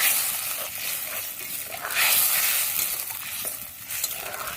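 A curry made with two kinds of ground mustard paste simmers and sizzles in a pan, a close bubbling hiss broken by a few stirring scrapes, with no talk.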